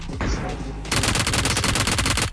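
Rapid automatic gunfire from the BGMI (PUBG) mobile game rattles in a dense, evenly spaced burst, loud and close, after a brief quieter lead-in with faint game sounds.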